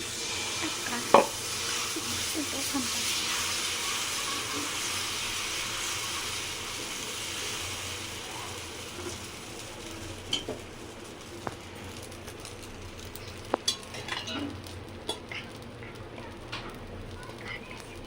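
A crispy dosa sizzles on a hot pan with a steady, soft frying hiss, broken by a few sharp clicks and taps.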